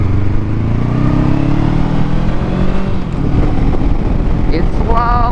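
Wind roars and buffets across the microphone while riding a motorcycle in cold weather, with a steady, loud rush and an engine drone underneath throughout.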